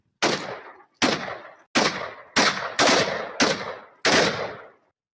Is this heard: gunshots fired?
yes